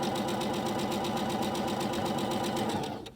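A sewing machine runs a quarter-inch seam in one steady, fast, continuous burst of rhythmic stitching, close and loud, stopping abruptly at the end.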